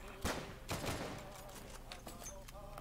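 Video-game gunfire rattles in repeated bursts of shots, loud and close, with denser volleys near the start and scattered shots continuing throughout.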